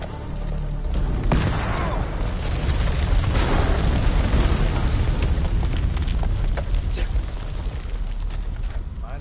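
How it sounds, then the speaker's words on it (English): A grenade goes off in the game House of Ashes, a loud booming blast followed by a long rolling rumble and crackle of debris, with game voices faintly mixed underneath. "Grenade!"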